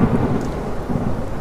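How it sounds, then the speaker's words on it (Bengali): Cartoon sound effect of a thunderstorm with heavy rain, a loud continuous rumble and steady downpour filling the whole moment with no voices. "কিছুটা যাবার পর হঠাৎ বৃষ্টি আরম্ভ হয়ে গেল।"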